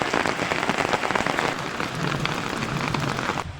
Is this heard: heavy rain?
yes